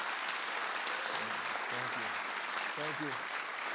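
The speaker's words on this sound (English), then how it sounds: "I think that deserves a big round of applause." Steady applause from a jazz audience in San Antonio fills the room, honoring a musician, while a few short voiced sounds rise briefly from the crowd.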